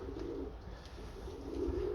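Soft continuous cooing comes from pigeons in a dry pigeon loft, several birds overlapping in a low, steady, close murmur.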